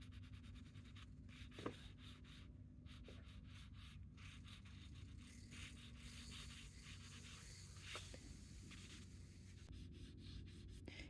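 Soft compressed charcoal scrapes and rubs across paper in continuous close strokes, a quiet gritty texture with occasional sharper scratches and no talking.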